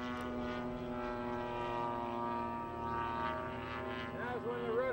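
A radio-controlled Piper Cub model airplane comes in to land on one wheel at a flying field, its small propeller engine droning steadily at a distance with shifting pitch, while faint voices murmur nearby.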